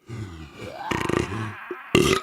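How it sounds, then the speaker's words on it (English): A person makes burps by sucking air in and letting it out: a rising inward gulp followed by two loud, croaky belches close to the mic, with brief pauses between. "It's like an in burp and an out burp."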